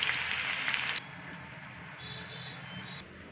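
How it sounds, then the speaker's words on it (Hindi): Onions frying in hot oil for a degi-style chicken korma, a steady soft sizzle that starts loud and bright for about a second, then settles into a quieter continuous crackle close by with no talk. "तेल चढ़ा दिया, गर्म हो गया, करना है सारे प्याज को फ्राई करना है।"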